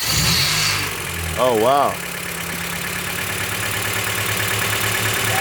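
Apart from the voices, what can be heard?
car engine starting with a failing starter, then idling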